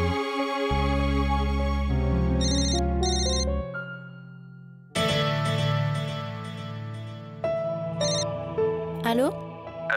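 An electronic telephone ringtone plays a bright melodic tune, with a low held tone, a brief pause, then a second ringing phrase that ends in a rising swoop.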